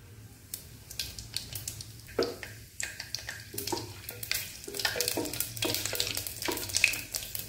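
Whole garam masala and shahi jeera crackle in hot oil inside a pressure cooker, with steady close sizzling broken by irregular bursts of popping and spoon scraping.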